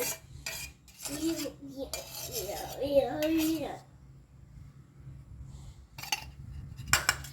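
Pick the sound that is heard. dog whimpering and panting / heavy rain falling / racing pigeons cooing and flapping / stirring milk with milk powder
stirring milk with milk powder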